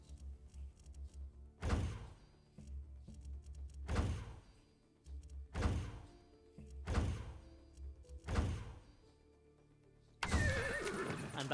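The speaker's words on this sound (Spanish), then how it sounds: "Voy a pedir un caballo." A horse in the video game Far Cry 6 neighs and snorts repeatedly over a low rumbling backdrop, each whinny spaced a couple of seconds apart, ending in a louder burst of noise.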